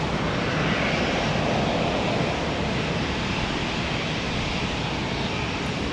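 Airliner taxiing slowly at Tampa airport, a steady broadband jet engine roar that stays constant and fairly close throughout, with no talking.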